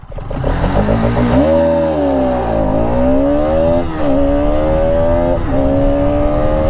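A Bajaj Pulsar RS 200 motorcycle engine revs hard during a launch, its loud buzzing note sweeping up through the rev range, dipping briefly as it shifts, then climbing again close to the microphone.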